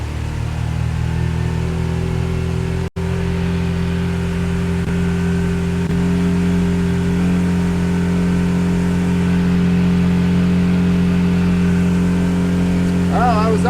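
A Honda 40 outboard motor on a 2016 SmokerCraft 162 Pro Tracer boat drones steadily and loudly, the engine note climbing slightly as throttle is added, with wind buffeting throughout.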